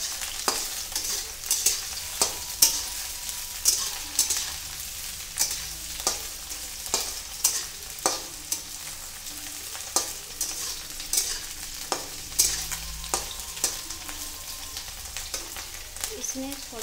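Boiled, chopped potatoes fry in a pan with a soft continuous sizzle, punctuated by repeated scraping stirs at an irregular rhythm, close up.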